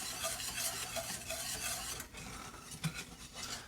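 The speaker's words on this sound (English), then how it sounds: "on this cocoa, you know, you'll need to stir this pretty continuously" A spoon stirring cocoa in a pot while making chocolate gravy, a continuous close scraping swirl with faint sizzling underneath and a soft clink near the end, no talking.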